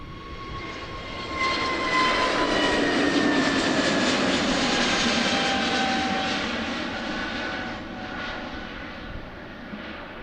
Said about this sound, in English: Let's follow this plane first.